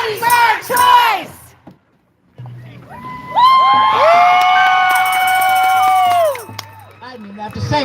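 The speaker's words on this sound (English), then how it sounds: "I didn't even have to say anything, and I got a cheer." Marchers at a Bans Off Our Bodies protest in Olympia break into loud, sustained cheering and whooping close by, following shouted chanting and a brief pause.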